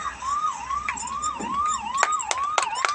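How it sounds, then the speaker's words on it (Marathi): A fire brigade vehicle heading back to its station sounds its wailing siren, a repeated rising-and-falling sweep several times over, moderately close, with sharp clicks and traffic noise in the background. "अग्निशमन दल परत आपल्या गेटकडे रवाना होत आहे"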